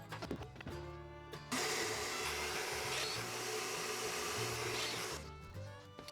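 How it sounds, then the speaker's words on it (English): A Festool-style domino joiner cuts mortise joints in wood for a walnut-edged doll house, a loud continuous whining buzz lasting about four seconds, close by, with brief clatter before and after. "always drill the first domino with tight setting and the second one with loose setting"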